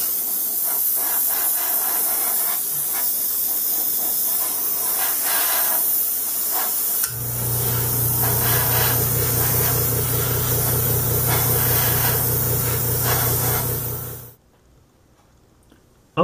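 Airbrush spraying a coat of floor wax over a 1/35 scale Tamiya Russian T-55A model tank, a close steady hiss that changes pitch midway and then cuts off abruptly.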